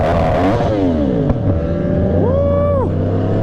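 A turbocharged sport motorcycle revs hard on two-step launch control, a loud close engine wail rising and falling with a sharp pop partway through, amid the steady drone of other bikes.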